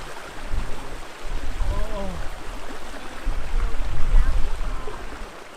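A river near Hethpool on St Cuthbert's Way streams and splashes close by, a steady watery rush with louder swells as someone dips their feet, and faint voices mixed underneath.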